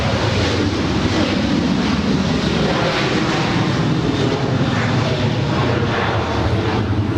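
A United Boeing 737-800 jet departs Los Angeles airport, a loud, broad roaring engine rush that holds steady throughout, mixed with heavy wind buffeting on the microphone and no voices.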